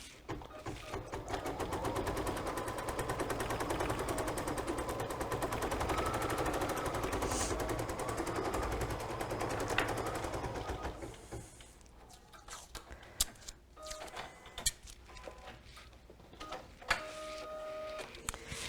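Embroidery machine stitching a placement line for a leather mustache appliqué, a loud rapid mechanical chatter that runs steadily for about ten seconds and then stops, leaving scattered clicks and light handling sounds.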